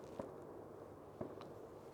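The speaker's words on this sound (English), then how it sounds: "this is the furthest place away from the fireworks" Distant fireworks at night near a graveyard sound as two soft, faint pops about a second apart above a quiet outdoor background.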